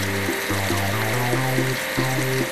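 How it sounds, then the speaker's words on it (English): In a children's space video game, a water spray washes an orange rocket: a continuous rushing hiss plays under a bouncy, stepping musical jingle. "Let's wash the orange rocket."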